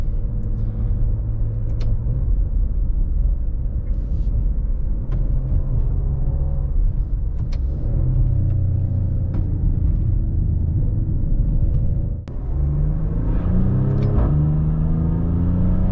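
A deep, steady engine rumble from a Maserati Levante cruising slowly, close and continuous, with a brief rev and gear shift near the end.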